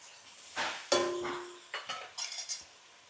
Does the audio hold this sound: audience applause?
no